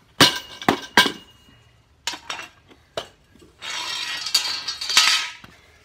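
Heavy weight dropped onto a plywood and fiberglass composite panel during a destructive stress test, giving several sharp impact thuds and clanks, then a longer rough scraping rattle near the end, close and fairly loud.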